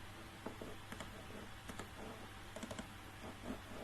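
Computer keyboard keys tapped while compiling a program in Turbo C, a steady run of light clicks with a few quicker clustered presses near the end, close and fairly quiet over a constant background hum, with no talking.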